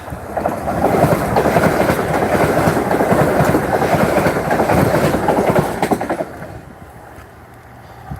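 A Class 385 train heading to Edinburgh passes through Stirling station with a loud, close rumble and rhythmic clickety-clack of wheels. The sound holds steady for several seconds, then fades as the train moves away.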